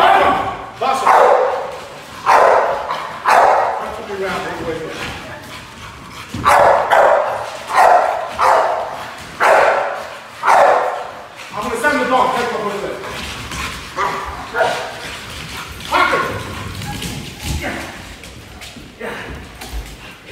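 An American bully dog barks in repeated loud bursts during personal protection training, the barks coming in a steady rhythm with a handler talking between and over them.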